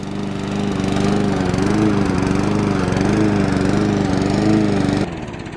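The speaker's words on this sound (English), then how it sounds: "Dad's been busy fixing his lawnmower" A lawn mower engine, recently repaired after a large hole was patched with metal, runs close by with a loud, steady droning hum that wavers slightly in pitch, then drops abruptly near the end as it cuts back.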